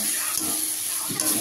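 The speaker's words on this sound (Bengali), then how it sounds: "এবার পরিমাণ মতন জল দিয়ে দিচ্ছি" Water poured into a pan of simmering tomato fish curry (bhangar macher jhal): a short, steady splashing hiss lasting just over a second, close and alone.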